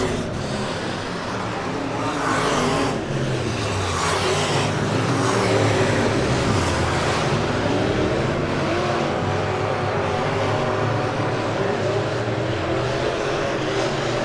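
Super Stock race cars lapping Lebanon Midway Speedway during a heat race, a steady roar of engines from a distance that swells and fades as the cars circle, with no talk.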